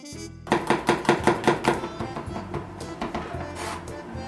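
A kitchen knife finely minces a garlic clove on a cutting board for fish dumpling filling, a quick run of about ten sharp, close chops that then settle into lighter, scattered taps.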